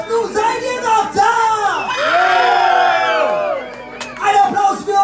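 A large party crowd at a Mallorca-style party in Guntersblum cheers and whoops loudly, with shouting voices rising into a sustained roar before breaking into scattered yells.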